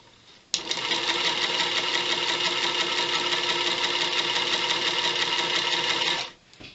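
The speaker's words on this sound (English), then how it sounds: "We're just going to stitch right on that line." A sewing machine stitches fabric along a diagonal line, a loud, even, continuous whirring run of about six seconds that starts abruptly and stops cleanly, with no talking.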